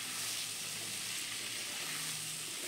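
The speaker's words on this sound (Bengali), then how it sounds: "এবারে একটু নেড়েচেড়ে নিয়ে মিশিয়ে নেব, না হলে নিচের মশলাগুলো পুড়ে যেতে পারে।" Potato and papaya pieces being stirred with spices in a hot pan for a Bengali labra, a steady broad sizzle and frying hiss running throughout with no talk.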